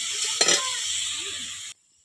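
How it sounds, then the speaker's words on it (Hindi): Cut radish with spices stirred in a hot pan, a steady sizzle with one brief louder scrape of the spoon near the start, ending abruptly in silence. "काटिक रखी मूला को ऐड करदे मूला को ऐड करदे मिक्स करदे मसला ऐड करवा"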